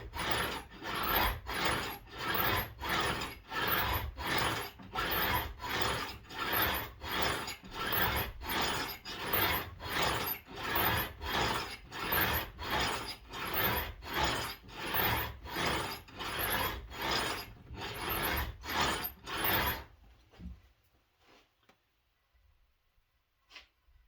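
A file rasps in long, even, rhythmic strokes across a cigar box guitar fretboard. About twenty regular back-and-forth scrapes sound close and loud, then stop, leaving near silence.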